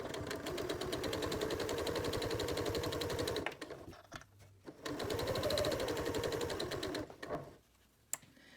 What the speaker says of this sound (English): The final step is to stitch along your edge.